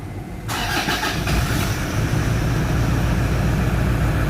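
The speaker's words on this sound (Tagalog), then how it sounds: "i-start na natin yung makina" A Toyota Fortuner 3.0 engine cranks and catches with a sudden burst, then settles into a loud, steady idle nearby.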